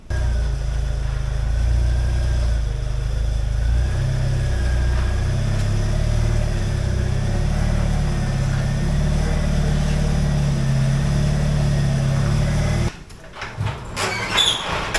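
A Jeep engine rumbles steadily at low speed as it backs into a shop, with a faint squeal over the drone. The engine cuts off near the end, followed by brief clatter.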